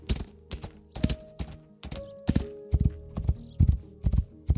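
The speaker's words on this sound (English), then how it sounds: "See, that's why I wanted a horse" Horse hooves while riding in Rising World, a loud close clip-clop in a quick steady rhythm of paired thuds, with a faint tonal hum beneath and no talk.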